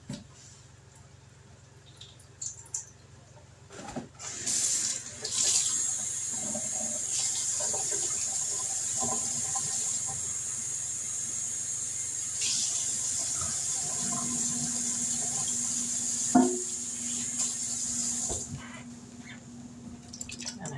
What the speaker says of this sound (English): These are the kidney beans. Let me rinse these off right quick.